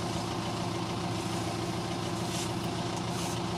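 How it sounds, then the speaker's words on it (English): A tractor carrying a custom-built outrigger conveyor that straddles several rows of gladioli drones at a steady low idle-like rumble, constant and unbroken while it travels slowly along the rows. "A tractor with a custom-built outrigger conveyor, straddling several rows, travels slowly along the rows"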